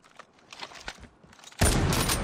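Video game gunfire starts with scattered quiet shots and soft footsteps, then bursts into a loud, sustained volley of rapid rifle fire that continues to the end.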